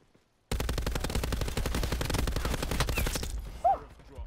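A Hades machine gun fires in the Black Ops 4 video game after a brief silence: a loud, rapid, sustained automatic burst of dense, evenly spaced shots that stops abruptly and leaves a short trailing echo.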